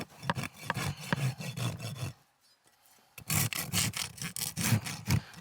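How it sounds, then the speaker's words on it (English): A Heller XL rasp files a draft horse hoof in quick rasping strokes, close by. The strokes come in two bursts with a pause of about a second between them. "So here I'm just going to shape the foot up a little bit with my rasp, get rid of any sharp edges"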